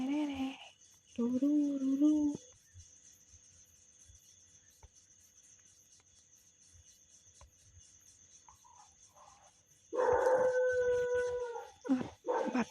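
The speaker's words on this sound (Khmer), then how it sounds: "ឆ្កែលូទៀតហើយ" A dog howls in long, wavering wails outdoors at night, first in two drawn-out bursts and again near the end, with crickets chirping steadily through the quiet gap between.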